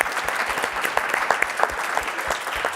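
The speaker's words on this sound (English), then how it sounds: "So I think everybody deserves a huge applause." Conference audience applauding, a dense patter of many hands clapping together at a steady level for a few seconds, no speech over it.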